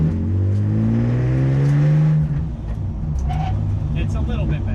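A BMW E46 330ci with an M54 B30 engine and custom launch control tune on a track build revs hard then launches, its engine note rising loudly before dropping as it pulls away, with talk over it.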